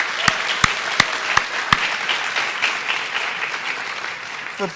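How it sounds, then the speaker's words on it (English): An audience at a Founder's Day event claps for the organizers: loud, close applause with a few sharp early claps, then dense, steady clapping that fades toward the end. "just one more round of applause for Katie and Susan and Michelle and Roxanne"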